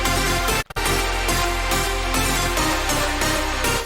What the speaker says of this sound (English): if you're going to use a small pluck sound like this, we need to add more overdrive on it.